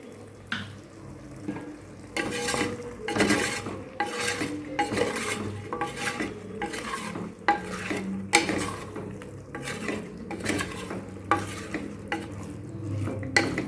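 A spoon stirs a mixture with a pinch of turmeric and ground dried chillies in a pot for Tirunelveli kootanchoru. It makes repeated rhythmic scraping strokes over a soft simmering sizzle, close up, with no talking.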